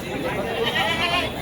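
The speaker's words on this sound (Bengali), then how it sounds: "কি জাতের ছাগল তো এটা?" A goat bleats at a busy Eid livestock market, its wavering call rising over the crowd noise while people talk nearby.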